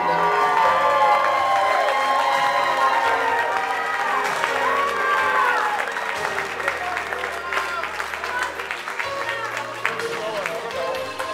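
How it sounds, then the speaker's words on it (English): Wedding guests at the Alpine Country Club in Rhode Island break into a big round of applause, a loud crowd of clapping and cheering swelling over background music and chatter, sustained for several seconds. "how about a big round of applause for the mother of the groom"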